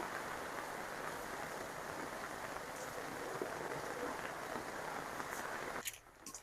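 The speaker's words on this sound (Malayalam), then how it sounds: "നല്ല മഴയാണ്" Steady, dense hiss of rain falling throughout, fairly soft, breaking off abruptly near the end.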